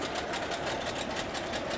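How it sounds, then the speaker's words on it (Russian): A used outboard boat motor warming up after purchase, running with a steady, slightly shaky rattling hum at moderate level, close by and without talk. "Мотор работает нормально, немного потряхивает."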